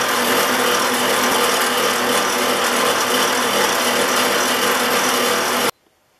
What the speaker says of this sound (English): on this nickel, I'm primarily using the wire edges of the wheel to polish it up